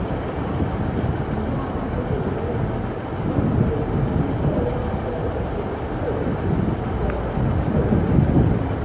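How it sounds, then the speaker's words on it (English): An Arriva Trains Wales train rolls into a platform at Chester station with a low, steady rumble of wheels and engine, growing slightly louder toward the end amid wind buffeting on the microphone. "Next train to arrive on platform 3 is the 9:55 ARRIVA Trains Wales Service"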